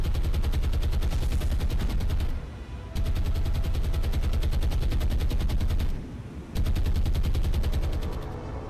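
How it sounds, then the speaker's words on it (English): Anti-aircraft guns on warships in the War on the Sea naval game hammer away in loud, dense rapid bursts, broken by two brief pauses before the barrage resumes. "we start putting some anti-aircraft fire up"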